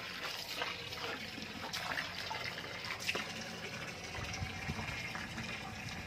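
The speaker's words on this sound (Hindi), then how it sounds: "पानी आ चुका है और पानी भरियो" Water gushes steadily from a tap into a container at a household in a family vlog setting, a continuous close rushing flow with no talk over it.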